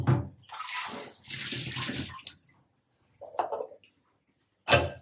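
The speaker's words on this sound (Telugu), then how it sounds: "ఇప్పుడు వాటర్ పోస్తున్నాం" Water splashes and gurgles as it is poured into a pan of restaurant-style paneer curry, a couple of bursts of pouring separated by brief pauses, close and clear with no talk.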